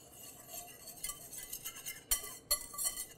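Salt and dried oregano, basil and thyme stirred together in a dredging bowl, giving soft scraping clinks with two sharp taps near the end, close and fairly quiet.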